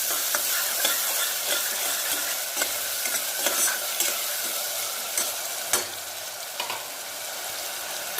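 Chopped vegetables being stirred and mixed in a hot pan with a spoon, a steady sizzle under repeated sharp scraping clacks at an irregular rhythm, close and fairly loud, with no talk.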